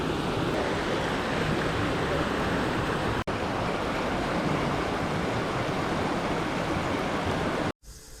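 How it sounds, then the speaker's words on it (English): Wastewater discharge from the Bethlehem treatment plant pours into the Lehigh River, a steady, loud broadband rush of flowing water with brief dropouts, no voices. "So this is the wastewater discharge from the Bethlehem treatment plant."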